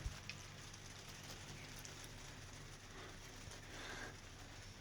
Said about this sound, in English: You can hear the rain landing on the polycarbonate roof.